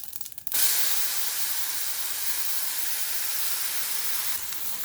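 Ground paste tipped into a hot pan of tempering makes a sudden loud sizzling hiss that bursts in and holds steady, a broad close spray-like crackle throughout.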